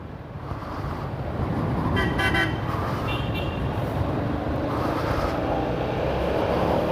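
A 2018 Yamaha XMAX scooter horn toots in a few short bursts over steady road and engine noise, fairly close.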